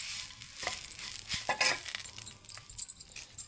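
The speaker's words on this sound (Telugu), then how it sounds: "ఆకుని మంచిగా వేపుకుందాం." Leaves fry in hot oil in a pan, a soft steady sizzle broken by a few sharp scrapes and clinks from stirring, fairly faint and close.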